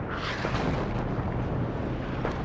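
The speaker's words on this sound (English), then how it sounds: "My Grad is already getting counter batteried, as you can see." Counter-battery artillery shells strike a Grad rocket launcher in the WARNO war game, a dense, continuous rumble of overlapping explosions that stays loud and steady throughout.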